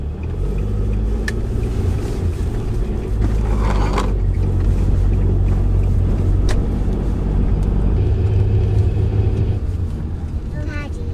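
A Japanese van drives on a road in Germany with a constant low engine and road rumble heard from inside the cabin, joined by brief clicks and knocks, and no talk over it.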